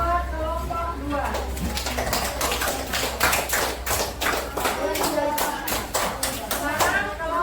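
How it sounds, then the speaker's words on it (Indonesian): A classroom group claps for a student team after their presentation, with sharp, close claps building into a fast, uneven rhythm over a low hum, and children's voices chattering underneath. "Tepuk tangan buat kelompok 2."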